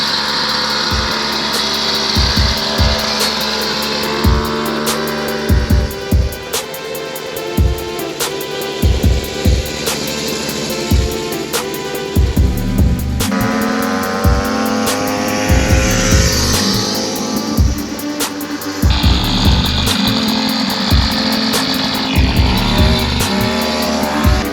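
A kid's gas-powered mini chopper engine runs loud and close, revving with uneven bursts and shifts in pitch through the ride, with no talk over it.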